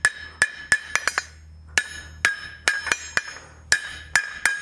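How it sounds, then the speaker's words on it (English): Hammer blows ring on hot steel over a forging block while shaping a roasting fork, about a dozen sharp metallic strikes, some in quick pairs, each with a bright ringing decay. "strike the opposite corner, creating a shoulder and also creating that somewhat octagonal shape, and then removing or hammering the inner corners as well"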